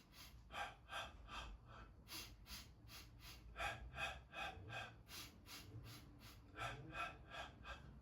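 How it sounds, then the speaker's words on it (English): Yoga breathing in through the nostrils and out through the mouth, a steady series of close, audible breaths with sharp sniffing inhales and soft exhales in an even rhythm, alone without talk. "breathe in 4 times through your nostril and out with your mouth"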